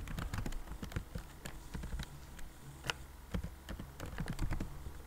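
Typing on a computer keyboard while writing in the Atom editor: quick, irregular clacking keystrokes in bursts, close and clear, with no talk over them.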